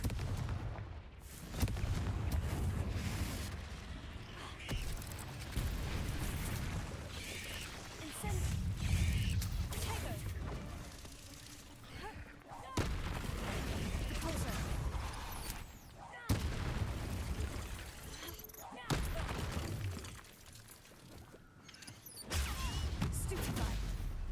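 Confringo blasting spell cast in a Harry Potter video game, repeated heavy booming explosions and crackling blasts in dense, fairly continuous bursts, with game voices in the mix.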